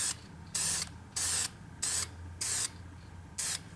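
Five short, even bursts of hissing lacquer spray from an aerosol can, spaced about half a second apart, close up with quiet pauses between.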